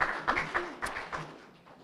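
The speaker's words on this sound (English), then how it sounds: "give yourself a round of applause" A small audience at a citizenship ceremony gives a brief, light round of applause, a few distinct claps spread across under two seconds with a faint voice in the background.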